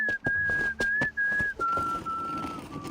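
A character in the video game Reverse 1999 whistles a broken, wandering tune of several sustained notes, clear and close, broken by soft thumps and faint footsteps in the background.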